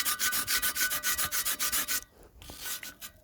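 Rhythmic back-and-forth scrubbing of the chrome on a 1975 Honda XL 100 with Solvo polish and a ball, a close, steady hissing rub in quick strokes, pausing briefly before a few slower strokes.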